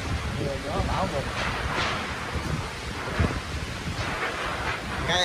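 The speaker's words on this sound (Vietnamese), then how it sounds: "Mưa gió bão bùng." Heavy rain and gusting wind from a storm batter a house, roaring steadily with buffeting wind noise on the microphone.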